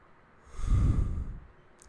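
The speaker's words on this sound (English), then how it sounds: "Breathe in, breathe out." A single deep breath during a guided alternate-nostril breath-work exercise, a soft airy rush that swells and then fades, close and alone.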